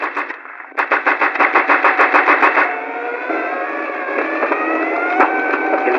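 Aircraft engine running in a film scene set during an air mission, a loud steady droning roar with rhythmic pulsing at first, then a smoother sustained hum with rising and falling tonal whine.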